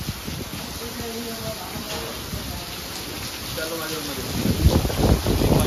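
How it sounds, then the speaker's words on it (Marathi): Steady heavy rain hisses across the whole clip during Diwali, with wind, voices talking underneath and a louder surge of patter near the end. "जोरात पाऊस चालू झाले."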